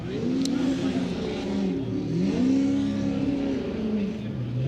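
A race car laps the track during qualifying in Texas, its engine droning loud and steady with rising and falling revs as it accelerates and lifts through corners, with an announcer talking over it.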